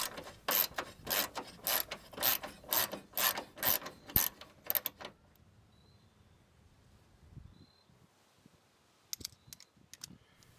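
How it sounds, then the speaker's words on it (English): Ratchet wrench with a 10mm socket loosening the battery bracket bolt on a Toyota Sienna, giving a rapid series of about a dozen close, crisp clicks for five seconds, then quiet with a few faint clinks. "Next, using the 10mm, loosen up the battery bracket."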